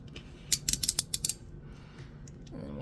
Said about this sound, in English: So we undo this screw.